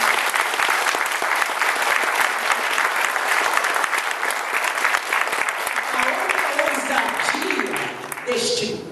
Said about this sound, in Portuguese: Então, palmas para ele.